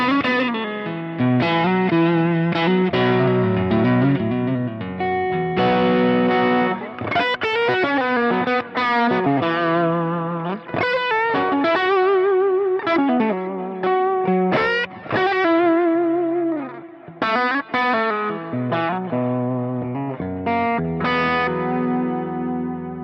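A distorted electric guitar lead tone modeled on a Mark II C++ amp, from a Fly Rig pedal unit, plays a continuous melody, saturated and sustained with a touch of chorus and echo, loud and close with no talking.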